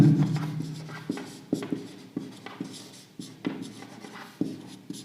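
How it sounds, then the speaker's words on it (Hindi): Chalk or marker strokes tap and scrape on a classroom board in short, regular bursts while a math lesson is written out, close and clear with no talk. "इसी एग्जांपल को मैं कंक्लूजन के तौर पर यहां पर लिख रहा हूं।"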